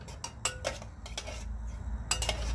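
A pot of boiling tea stirred by hand in a Malaysian home kitchen: a few sharp metallic clinks of a spoon against the pot, spaced irregularly over a low steady simmering rumble, close and fairly quiet.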